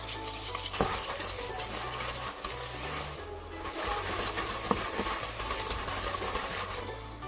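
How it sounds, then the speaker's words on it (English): Sugar, butter and avocado oil for fudgy cocoa brownies are stirred together in a bowl, a steady close scraping and swishing with occasional clinks of the utensil against the side. "You're going to mix your sugar and your butter really, really well until it's all combined."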